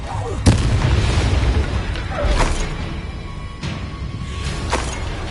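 Confringo blasting spells explode in the Hogwarts Legacy video game, four loud booming bursts spaced about a second or two apart over a rumbling, busy battle background.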